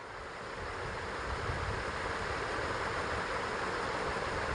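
Water poured into a pan of spiced masala for a rohu fish curry gives a steady, close broadband hiss and rush that holds evenly for several seconds, with no talking.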